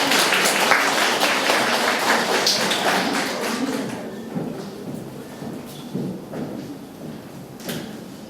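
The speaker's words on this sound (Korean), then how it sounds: "박수로 맞이해주세요" Scattered clapping from a small audience of parents welcoming a speaker to a lecture, loudest at first, then thinning out into a few sporadic claps.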